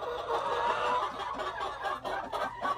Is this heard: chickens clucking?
yes